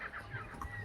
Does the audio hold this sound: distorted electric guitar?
no